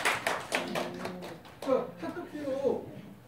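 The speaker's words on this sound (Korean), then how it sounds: "박수 주세요" A group claps in a classroom lecture, a quick run of sharp hand claps at the start. The clapping then thins out while a voice talks.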